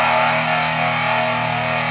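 An electric guitar played through a distortion pedal holds a loud, sustained, saturated chord, thick and buzzing with a steady drone for the whole two seconds and no voices over it.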